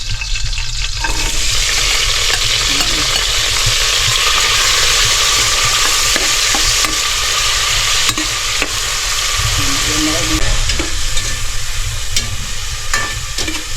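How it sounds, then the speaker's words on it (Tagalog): Food sizzles and sautés hard in a hot pan, a loud, steady frying hiss that runs unbroken throughout, with occasional stirring scrapes and clinks and no voices. "gisahin, na, gisahin natin mga kaibigan"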